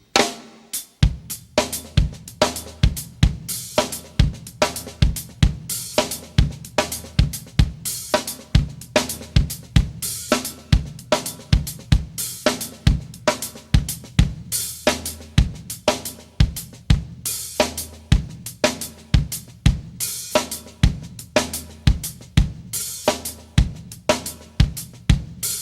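A drum groove from the solo section of a song, played alone at a steady tempo, sharp kick and snare hits with cymbal wash repeating in a tight one-bar pattern.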